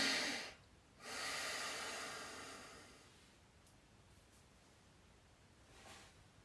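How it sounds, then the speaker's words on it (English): A breath drawn in during a guided breathing exercise, a soft broadband airy inhalation rising near 1 second and fading over a few seconds, close and quiet with no talk. "So we're going to take a breath in."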